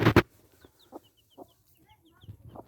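A hen on a free-range chicken farm gives low, spaced clucks to her newly hatched chicks, while thin high peeps from the chicks scatter between them.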